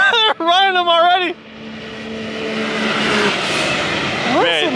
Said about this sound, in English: Yeah, you can really hear the freaking turbos, man.